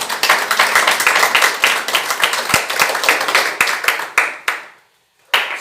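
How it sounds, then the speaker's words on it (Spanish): Church congregation clapping together in fast, steady rhythmic applause, loud and close, that keeps going for several seconds, then stops briefly into near silence before the claps pick up again. "Dale un fuerte aplauso al Señor."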